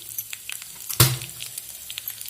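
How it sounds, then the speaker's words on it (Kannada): Mustard seeds, urad dal, cumin and dried red chili hit hot oil for tempering, giving one sharp sizzling burst that fades into faint crackles and pops. "ಇದನ್ನೆಲ್ಲ ಒಗ್ಗರಣೆ ಮಾಡ್ಕೊತೀನಿ"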